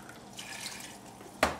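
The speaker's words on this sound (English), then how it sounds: "Add 2 cans of water just to cover the artichokes." Water from a can poured into a pot of artichoke heart stew, a soft trickling splash that builds briefly before a sharp splashy slosh near the end, quiet and close.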